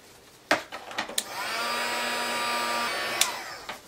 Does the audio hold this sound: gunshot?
no